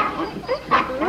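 A farm dog, a collie, gives a few short, excited barks and yips in an outdoor rural setting, close and moderately loud.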